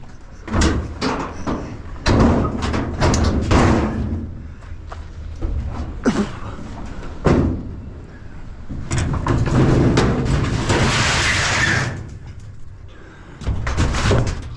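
Scrap metal, including old refrigerators, is thrown onto a trailer, making scattered loud clanks and bangs with pauses between loads, and faint voices at times.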